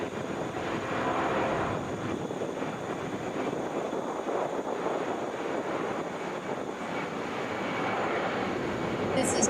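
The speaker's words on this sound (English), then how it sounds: "Boeing 757, wheels are up there." Delta Boeing 757 airliner taking off at Atlanta International Airport, a faint, distant, continuous engine roar with some wind noise, swelling slightly toward the end.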